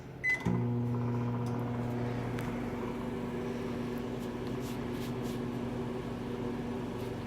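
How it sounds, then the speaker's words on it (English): A microwave oven heating a quesadilla of tortillas and melting cheese, starting with a brief click and beep, then settling into a steady, close electrical hum that runs alone through the whole stretch. "once it's placed in your microwave, all you need to do is cook it for 45 seconds"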